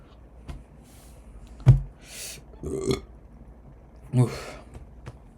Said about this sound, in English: I'm about to burp again